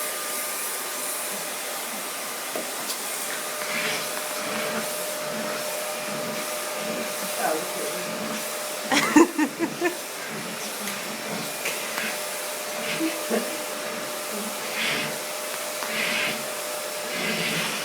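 A vacuum cleaner hums steadily at low volume while grooming a cat, with brief scuffling and a few soft thumps partway through as it is moved over the cat.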